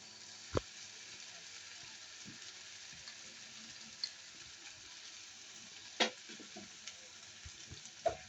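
Mint leaves and green chillies fry in a pan with a faint, steady sizzle close by, broken by a few sharp clicks of a stirring spoon against the metal.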